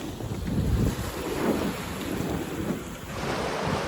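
A sailboat crossing the Atlantic toward Martinique in the trade winds, with steady rushing wind buffeting the microphone and waves washing against the hull, continuous and fairly loud with no voices.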